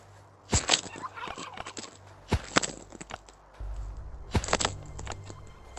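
Turkey gobbles in a hunting video game, several sharp rattling bursts spread out over a few seconds against quiet ambient game sound and faint rustling.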